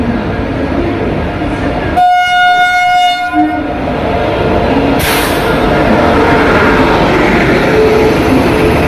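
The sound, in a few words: train arriving at Amritsar station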